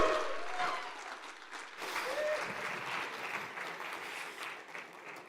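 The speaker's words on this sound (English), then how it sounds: "Please, big applause for him." Audience applause at the Cosmoverse 2023 conference as a speaker is welcomed to the stage, a steady wash of clapping from a crowd that slowly thins out, with faint voices mixed in.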